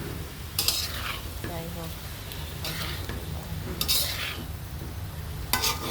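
A spatula stirs a fried egg in hot oil with salt, turmeric and chilli powder, with steady sizzling and occasional scrapes and clinks against the pan while a voice speaks briefly.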